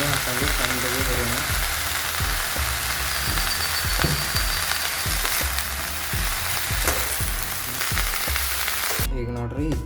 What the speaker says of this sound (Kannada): ಈಗ ಕೊತ್ತಂಬರಿ ಮತ್ತು ಪುದೀನ ಎರಡು ಸೇರಿಸಿ ಹುರಿತೀವಿ. ಎಣ್ಣೆ ಹಾಕೊಂಡು ಚಂದಗೆ ಹುರಿಯೋಣ.